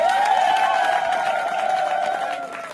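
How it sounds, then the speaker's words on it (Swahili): A crowd applauding and cheering for a grandmother at a gathering of CHADEMA supporters, a dense wash of clapping under a sustained tone, fading slightly toward the end. "Tumpigie makofi bibi yetu."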